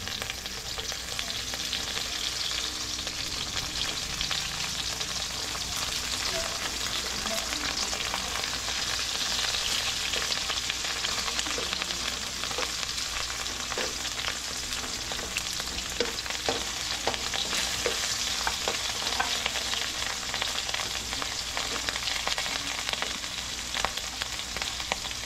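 Tuyo, Filipino dried fish, fries in a pan with a constant loud sizzle and crackle that goes on without a break, with small pops scattered through it.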